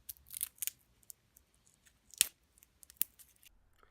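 Scissors cutting strips of tape, several crisp snips and clicks spaced irregularly, close and quiet with no talking.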